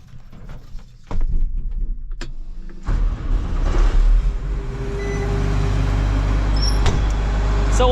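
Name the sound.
farm machine engine started up and running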